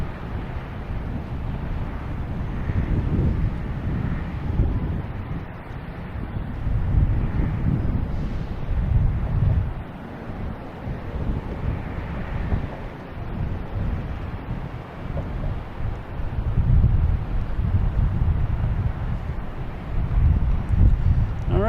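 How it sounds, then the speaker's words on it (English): Strong wind gusting at Boston Logan Airport during plane spotting, a loud continuous low rumble of buffeting against the microphone that swells and eases in waves throughout, with no speech. "the wind's really picking up all of a sudden"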